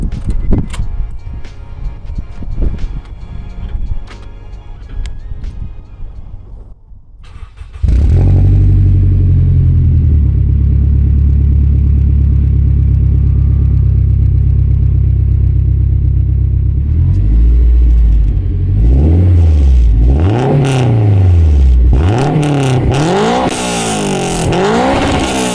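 Turbocharged Honda Integra DC5 Type R with its silencer removed, first clattering, then firing up into a loud, deep idle, followed by several sharp, rising and falling revs close by.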